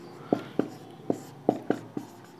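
Chalk or marker writing on a board during a maths lesson: six short sharp taps and strokes at uneven intervals over a quiet room background, close and fairly soft.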